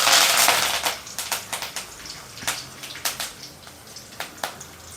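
Mustard seeds with cumin and curry leaves crackle and pop in hot oil for vegetable upma, a dense burst of sizzle at first, then many sharp irregular pops close by, with no talking.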